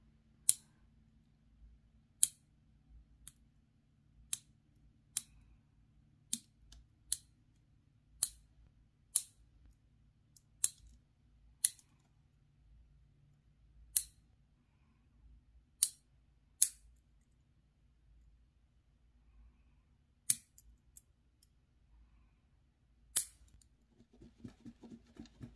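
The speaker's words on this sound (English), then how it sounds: "Trimming my nails. I like cutting my nails really, really short right before I put my new set." Fingernails trimmed very short with clippers before applying gel press-on tips, a long series of crisp, isolated clicks spaced a second or two apart in a quiet room, with no talking.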